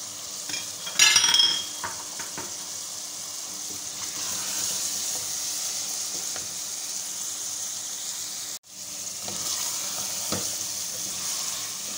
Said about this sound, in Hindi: अब इसमें आलू मिक्स कर लूँगी।